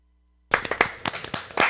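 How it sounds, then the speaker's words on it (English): Sudden burst of hand clapping from a small group, a brief scattered round of claps starting abruptly after silence and lasting just over a second. "We usually get a round of applause out there."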